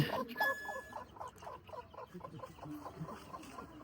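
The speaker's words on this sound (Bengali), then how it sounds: "এই মুরগিটা সুন্দরভাবে এই ডিমে তা দিতেছে" A hen brooding eggs clucks in soft, repeated low calls at a steady rhythm, close by, with faint background noise.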